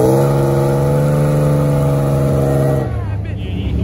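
A blue Dodge Demon SRT engine revs loudly at a car meet, one sustained climbing rev for nearly three seconds that then cuts off abruptly into a lower rumble.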